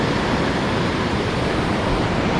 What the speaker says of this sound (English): They have some pretty big waves there.